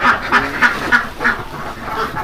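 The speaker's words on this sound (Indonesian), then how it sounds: "Ini kan namanya itik lokal ya, itik dari Cianjur" Local Cianjur laying ducks on a duck farm quack in a quick series of six or so nasal calls, fairly close and clear over a soft background, with no voices.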